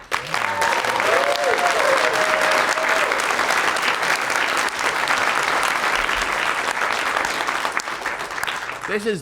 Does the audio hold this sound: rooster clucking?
no